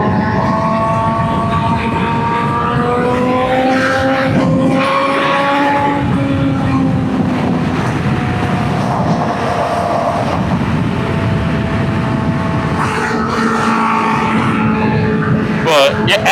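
A tuned sport motorcycle with a full-system aftermarket exhaust and sprint filter revs up and down, its pitch sweeping steadily, loud, close and continuous.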